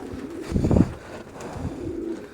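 A female pigeon gives soft, low, throaty coos close by, a short burst of rolling cooing followed by quieter murmurs.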